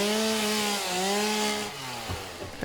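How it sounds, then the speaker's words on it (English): A chainsaw revs and cuts in the factory-building game Satisfactory, its loud buzzing drone holding steady, briefly dropping in pitch, then fading into scraping noise in the last second. "Also chainsaw that."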